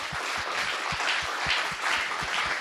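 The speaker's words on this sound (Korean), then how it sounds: "또 멀리 영국에서 온 우리 헬렌 자매님을 성도님을 위해서 힘내라고 박수 한번 Let's give 합시다." A church congregation claps for Helen, a sister visiting from the UK, at a revival Sunday service. The applause is steady and crowd-wide with rhythmic low thumps underneath, and no talking.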